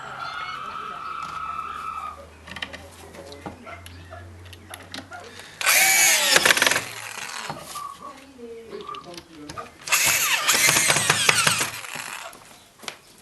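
A power drill drives angle screws into a pallet-wood garden furniture frame in two loud bursts, separated by quieter stretches with faint birdsong and a low hum.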